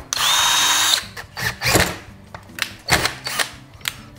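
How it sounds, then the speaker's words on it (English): A power drill whines in a sustained burst, followed by several shorter stop-start pulses of drilling, close and loud. "So we'll drill a little pilot hole there first."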